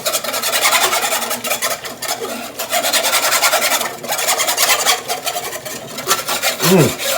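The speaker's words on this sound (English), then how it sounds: "Give this a nice whisking." A whisk scrapes rapidly against a pan of turkey gravy seasoned with hot sauce, a steady rasping, rubbing rhythm that runs close and loud throughout with brief pauses.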